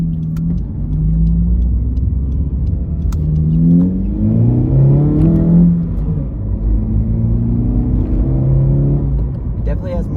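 A Honda CR-Z with an upgraded intake manifold accelerates, its engine droning and rising through the gears from inside the car, loud and continuous, with a voice speaking over it.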